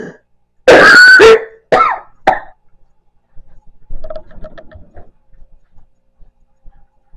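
A few harsh coughs close up, one long followed by two shorter ones, then faint ticking and quiet clinking.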